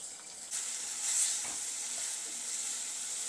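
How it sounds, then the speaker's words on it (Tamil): Chopped onion sautéing in a deep pan gives a soft, steady sizzle with a few faint stirring clicks, fairly quiet and without talk. "இந்த வெங்காயம் வந்து கொஞ்சம் நேரம் வதங்கட்டும்"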